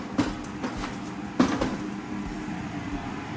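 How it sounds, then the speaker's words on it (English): An electric fan running on a hot day gives a steady, even whooshing hum throughout, with a couple of faint knocks in the background. "excuse the noise of my fan, but I'm trying not to melt"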